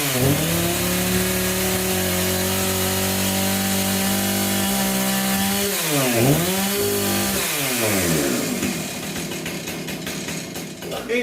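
A Husqvarna 460 Rancher two-stroke chainsaw engine with a rebuilt carburetor runs loud and close, holding high revs, dipping once, then surging back up before easing toward an idle.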